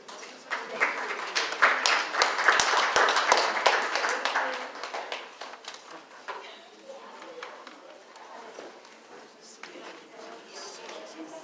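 Audience applause after an event on employment options for refugees with disabilities, a dense patter of clapping that swells early then thins and fades to scattered claps.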